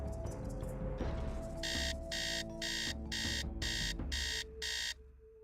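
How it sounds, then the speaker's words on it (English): An alarm clock rings in the video game Candy Wren with a loud electronic beep repeating about seven times in an even rhythm over background game music, then stops. "Let's set the alarm for 8 a.m."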